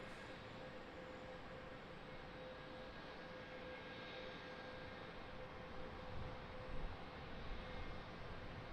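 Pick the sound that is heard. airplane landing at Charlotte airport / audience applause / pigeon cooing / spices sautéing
airplane landing at Charlotte airport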